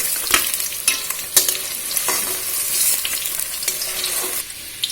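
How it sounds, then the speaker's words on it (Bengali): Potatoes frying in hot oil in a pan while cooking a Bengali paneer-potato curry, a steady loud sizzle punctuated by several sharp clinks and scrapes of stirring, with no voices. "এবার আলুগুলো ভেজে নেওয়া হচ্ছে।"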